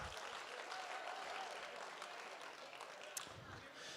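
Applause rises from the crowd at a Make-A-Wish fundraiser auction, honoring the donors; steady, fairly distant clapping with faint voices mixed in.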